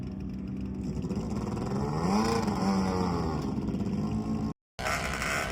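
A land speed race car makes its run on the El Mirage dry lake course, its engine droning steadily at a distance, the pitch rising and falling as it passes, before a brief gap of silence.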